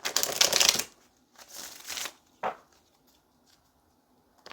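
Tarot cards are shuffled by hand during a reading: two rustling riffles, then a short sharp tap as the deck settles, close and crisp with quiet gaps between.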